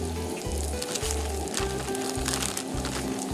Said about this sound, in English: It's beginning to sizzle a little bit there.